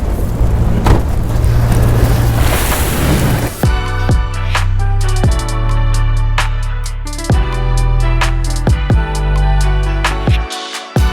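A car engine cranks and fires, then settles into a steady, loud, close idle with slight pulsing, cutting out near the end.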